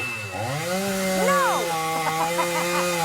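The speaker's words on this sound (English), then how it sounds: "Chekhov's chainsaw." Chainsaw running loud and close, its engine pitch sweeping up and down as it revs, with a continuous droning buzz throughout.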